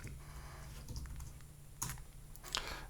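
Quiet, close clicking of code being typed on a computer keyboard, scattered keystrokes with a couple of sharper clusters over a low background hum.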